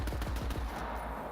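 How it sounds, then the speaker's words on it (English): A Vladoff pistol in Borderlands 3 fires a rapid burst of about six bullets, sharp close shots in quick succession that fade into a short echoing tail. "we have a Vladoff pistol. And if we just fire regularly, we just fire bullets."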